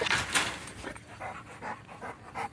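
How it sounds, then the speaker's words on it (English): A brindle-coated dog pants in quick, rhythmic bursts at close range, the breaths rising and falling in a steady series with no talking over them. "I like the Brindle dog"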